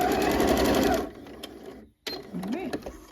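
A sewing machine back stitches a seam on a fall top in a short, loud, rapid burst of about a second. Quieter handling sounds and a thread snip follow.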